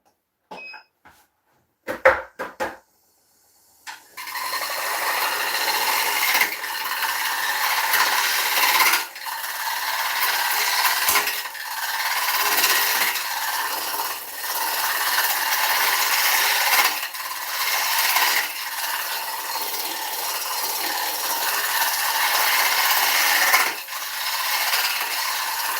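A gouge cuts steadily into a spinning wooden bowl on a lathe, a continuous harsh rasping scrape with brief pauses, after a few sharp knocks at the start; no talking.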